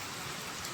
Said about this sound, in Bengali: আমরা এসে একটু বৃষ্টি পেয়েছি, বৃষ্টিটা উপভোগ করতে পারলাম